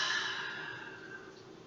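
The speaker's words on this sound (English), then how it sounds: "And then exhale." A single slow, soft exhale during a gentle restorative yoga breathing exercise, a breathy hiss that gradually fades over under two seconds, close and quiet.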